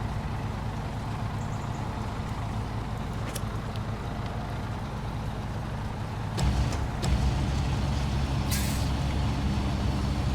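A heavy truck in the SnowRunner video game idles with a steady diesel rumble, broken by sharp air-brake hisses and releases. The engine note grows louder and rougher partway through.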